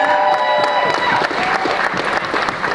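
Clapping from the crowd at an awards show continues steadily for a few seconds, fairly loud, with murmured voices and cheering beneath it.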